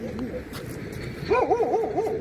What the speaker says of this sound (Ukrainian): Ой, ще там другий собак.